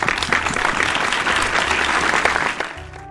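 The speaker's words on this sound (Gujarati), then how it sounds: "ચાલો તાળીઓથી વધાવીએ બિપિનભાઈને" A hall audience at a 75-year celebration breaks into sustained, dense applause, many hands clapping steadily for about three seconds before it thins out.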